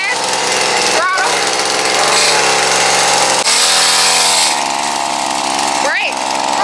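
A dirt bike engine revs at a park, the throttle twisted up and down in surges with rising pitch sweeps, loud and close, with people talking over it.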